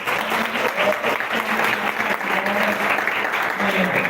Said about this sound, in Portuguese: Aplausos também para vocês.